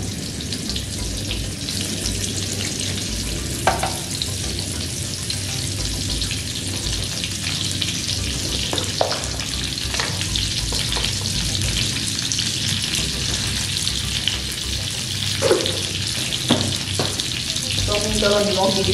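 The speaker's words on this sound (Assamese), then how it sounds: "পটলখিনিও ভাজি লওঁ।" Pointed gourd pieces frying in oil in a home kitchen for an Assamese paneer recipe, a steady loud sizzle with occasional stirring clicks and scrapes of a utensil, no talk.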